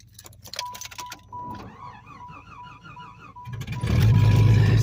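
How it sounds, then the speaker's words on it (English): A 1994 Jeep Grand Cherokee Laredo with a 4.0 I6 engine is cold-started in very cold weather: faint clicks and a whining starter precede the engine catching and settling into a loud, rumbling idle nearby. "So let's start up the older Grand Cherokee."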